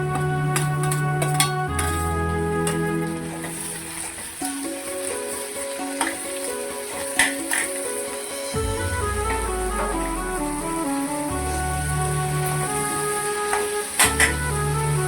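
Tomatoes tossed into onions frying in oil for prawn thokku, a steady loud sizzle running throughout with the crackle swelling and softening as the pan is stirred, under background music with no talk.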